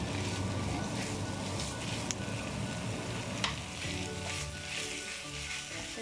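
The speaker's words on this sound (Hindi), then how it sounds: "उसमें हम अपना चिकन ऐड करेंगे। तो बस इसको अच्छे से मिक्स कर लें" Chicken frying with lightly golden onions in a pan while being mixed: a steady, moderately loud sizzle with occasional soft scrapes from stirring, continuous and close.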